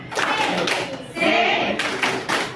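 Children in a classroom perform a rhythmic 'tepuk semangat' spirit clap, short bursts of group clapping with chanted voices between them, fairly quiet and close.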